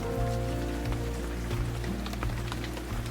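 Heavy rain pattering steadily on a surface, a dense, close wash of drops with some low rumble underneath, no voices.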